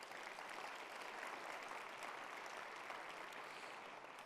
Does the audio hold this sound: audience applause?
yes